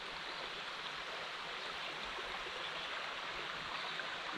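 A small, shallow stream of flowing water, a soft continuous trickling wash, steady and fairly faint with no voices.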